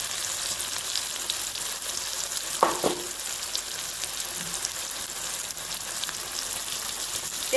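Potatoes with salt, turmeric, chili powder and asafoetida fry in a pan, giving a steady moderate sizzle with a few stirring knocks and scrapes, no voices.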